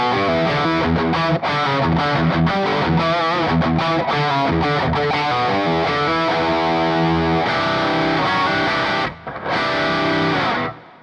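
Electric guitar played through channel 2 of an AMS DBA 50 amp, voiced like a JCM 800, with a dense distorted tone of sustained chords and riffs, loud and steady, a brief dropout near the end.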